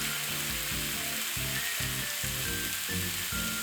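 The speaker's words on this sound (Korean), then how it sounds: "돌돌 말아둔 고기라 돌려가며 구워줍니다." Rolled beef-and-vegetable rolls fry in a pan, giving a loud, continuous crackling sizzle with faint low pulsing underneath; close up, no talking.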